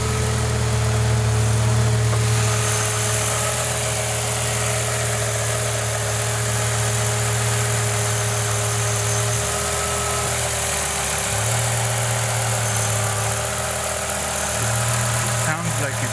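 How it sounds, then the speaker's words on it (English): A BMW M5 E60 with a V10 engine idles roughly with a hesitation fault, a steady low rumble whose pitch dips and recovers unevenly several times. The sound is close and continuous. "It sounds like it's hesitating a little bit in idle."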